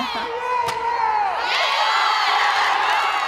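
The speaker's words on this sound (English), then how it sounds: "Echoes of chants filled the air as Fighting Illini fans cheer for their favorite team." Fighting Illini fans cheer and shout together for the Orange and Blue, a loud, steady crowd roar with a brief sharp slam near the start and rising whoops later, no clear chant rhythm standing out.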